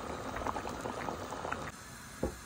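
A pot of dal with tomato and chillies simmers on a medium flame, a soft close bubbling that gently pops and gurgles, faint and without voices.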